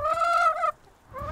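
Rescued laying hens give a drawn-out, tonal call that breaks off briefly and then resumes, close and clear with no talk over it.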